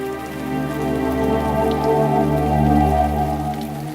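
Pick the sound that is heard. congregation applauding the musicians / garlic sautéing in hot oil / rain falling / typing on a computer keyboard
rain falling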